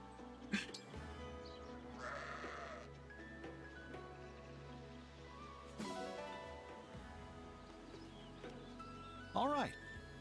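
A sheep bleats a couple of times over a Fire Emblem Engage game soundtrack with music and ambient effects, with a short wavering bleat near the end.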